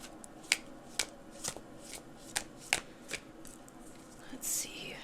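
A tarot card deck being shuffled, crisp riffling snaps and flicks landing in an uneven rhythm, close and fairly quiet, with a softer sweeping rustle near the end.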